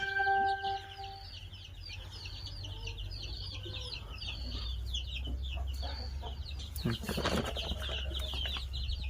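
Many four-day-old baby chicks, about 1200 of them, chirp and cheep continuously in a poultry brooding setup, a dense high-pitched chorus over a steady low hum with some scattered clucking and brief rustling.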